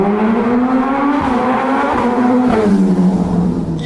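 A loud, remapped Suzuki GSX-S1000 motorcycle engine, running without its tank fitted, revs hard and close, its pitch rising and dipping in continuous throttle blips with no talking.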